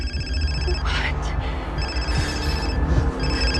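An incoming call sets a telephone ringing in repeated electronic bursts with a brief gap between them, heard under a noisy dramatic film scene with a voice briefly audible.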